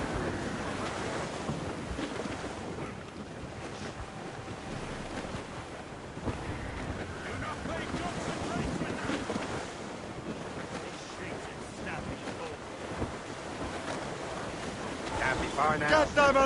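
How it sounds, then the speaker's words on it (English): Strong wind howls across the open sea as a sailing ship pushes through waves in a video game, with a steady roar of gusts and surf the whole way through and a voice calling orders to the crew. "Reef the mains! Clew up gallants! Wind's getting vicious."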